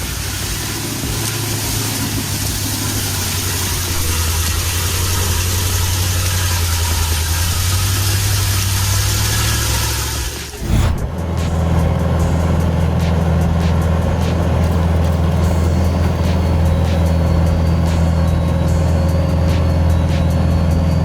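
A Ural off-road truck engine running with a low, steady rumble and droning hum, loud and continuous, briefly dipping midway before settling back into a constant engine tone.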